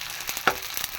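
Sun-dried vadiyalu crackling and sizzling as they fry in hot oil, a steady close fizz with a few sharper pops.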